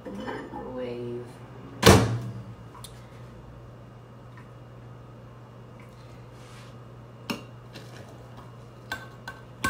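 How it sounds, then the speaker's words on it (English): A microwave oven heats a cup of coffee: a door clunk, then a low steady hum runs on with a few faint clicks and small kitchen clatters. A voice speaks briefly at the start. "Coffee is then up in the microwave."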